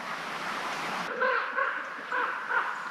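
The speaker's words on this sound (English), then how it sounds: "Crows chasing each other around up there." Crows caw four times in a loose sequence, the harsh calls moderately distant over a soft airy background.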